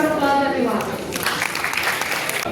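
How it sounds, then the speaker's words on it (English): Audience applause builds under a voice speaking at first, then continues as a steady clatter of clapping from a crowd. "And please welcome the with a round of applause everyone."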